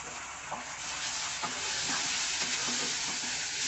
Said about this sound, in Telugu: ఇది కూడా ఫ్రై అవనివ్వండి.